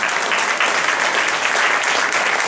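An audience at a lavani stage show claps loudly and steadily for harmonium player Sudhir Jawalkar as he enters, a dense, even wash of applause with no voices.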